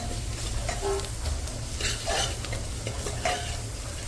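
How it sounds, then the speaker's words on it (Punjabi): Spices roasting in a pan as they are stirred, a steady close sizzle and hiss with scraping strokes, continuous and fairly loud, with no talk. "ਮਸਾਲੇ ਨੂੰ ਨਾ ਥੋੜਾ ਭੁੰਨੋ"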